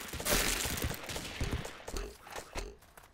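Rapid gunfire in the blocky multiplayer shooter Ace of Spades (beta 0.75), a dense burst of shots with a couple of later bangs, fairly loud and close with no talk over it.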